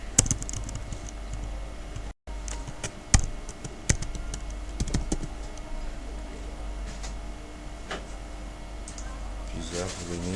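Code being typed on a computer keyboard, with irregular close key clicks and a few sharper taps spread through a quiet room, followed by a short burst of faster clatter near the end.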